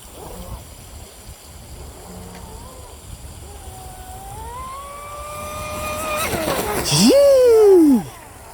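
Shreddy Recoil 2 RC boat on a 6S battery pack runs on a pond, its motor whine rising and falling in pitch as it passes, then surging loud and high for a brief burst near the end before cutting off.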